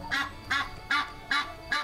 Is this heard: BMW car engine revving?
no